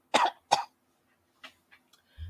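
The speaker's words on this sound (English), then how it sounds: "That was a fake cough, by the way." A voice makes two sharp, deliberate coughs close to the mic, followed by a few small throat noises and breaths.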